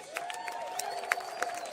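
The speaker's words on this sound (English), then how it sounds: "So please start clapping your hands right now." Scattered outdoor clapping from a protest crowd in Austin welcoming a jazz band, fairly faint and distant, with irregular claps over a sustained background hum.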